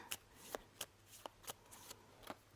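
Playing cards being shuffled and drawn one at a time for a tarot-style reading, giving about seven crisp, close snaps and flicks at a loose, irregular pace with quiet gaps between them.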